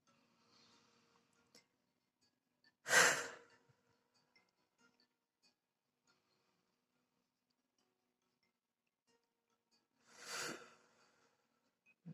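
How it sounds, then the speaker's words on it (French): Two slow, deep breaths in a quiet guided meditation, each a soft airy rush several seconds apart with near silence between them. "Nous voilà partis pour les 3 respirations."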